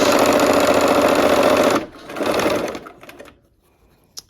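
Sewing machine stitching quilt fabric seams for a barn quilt sampler, a loud rapid rattling run that stops abruptly, then a shorter burst and quiet with a small click at the end.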